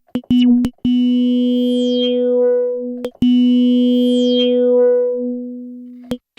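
A Groove Synthesis 3rd Wave synthesizer tone sounds twice in held notes, each opening with a quick attack and a bright filter sweep that glides downward while the note sustains.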